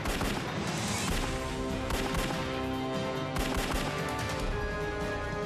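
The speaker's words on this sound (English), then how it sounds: "Shots fired, shots fired." Rapid gunshots ring out during a police chase in a hospital parking lot, a sustained burst of cracking reports over a steady noisy background.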